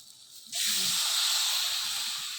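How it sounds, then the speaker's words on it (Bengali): A little water is poured into browned spice paste stuck to a hot pan while cooking a large koral fish; after a quiet moment a sudden loud hiss bursts out and holds, easing slightly as it steams. "একদম নিচে লেগে গেছে, এখন অল্প একটু জল দিয়ে দেব।"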